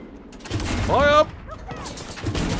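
A cannon fires in the Far Cry 6 video game, a heavy blast mixed with whining, rising mechanical tones and background battle clatter, fairly loud throughout.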